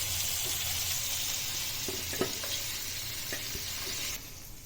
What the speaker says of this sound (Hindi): हमने 10 मिनट चिकन को अच्छे से बड़े गैस पे भून लिया है तेल में